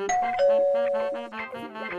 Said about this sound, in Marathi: अगं बाई आता कशी काय बेल वाजली?